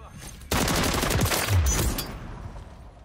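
Loud, close automatic gunfire in Call of Duty: Modern Warfare III multiplayer bursts in suddenly, a rapid stream of shots lasting over a second before fading into ringing ambience.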